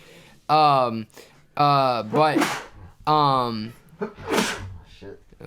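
Two sneezes, each preceded by a drawn-out, rising vocal build-up, burst out close and loud.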